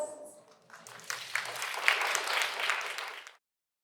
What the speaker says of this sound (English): Can I get a round of applause for our panelists?